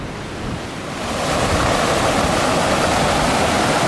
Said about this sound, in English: Twin Lakes waterfall.